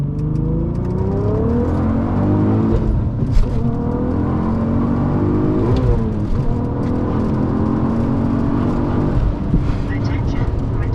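Engine of a 550 HP Golf R32 accelerating at full boost: loud, sustained roar that climbs through gears in repeated rising sweeps, with brief dips at each shift and faint voices underneath.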